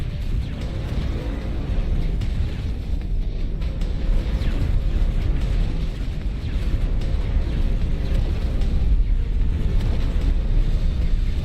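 A ship explodes in a space battle in the game X4: Foundations, a long deep rumbling roar with crackling bursts, loud and sustained throughout, without speech.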